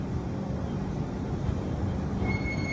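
Passenger train pulling away after a long signal halt on the Kacheguda to Bhagati Ki Kothi route, heard from inside a near-empty coach: a steady low rumble of wheels and carriage with a faint high squeal near the end.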